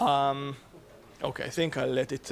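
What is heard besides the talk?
pigeon cooing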